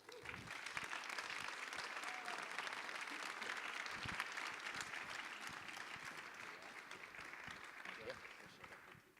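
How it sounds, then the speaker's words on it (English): Audience applause at a film festival masterclass welcomes a speaker to the stage: dense, sustained clapping from a crowd that holds steady for several seconds, then starts to thin toward the end. "please give a hearty applause to Foreman"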